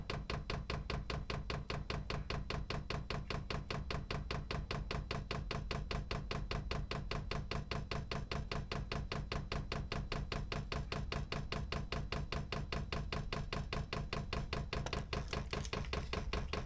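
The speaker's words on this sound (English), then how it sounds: "That noise is the fuel pump." A 12V diesel heater's fuel pump ticks while priming in a garage, giving a fast, even train of faint clicks that runs steadily throughout.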